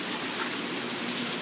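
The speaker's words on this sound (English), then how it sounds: "Still hail." Hail falling on a patio during a summer storm in Baltimore, a dense continuous patter of many small impacts that stays loud and steady throughout, with no voices.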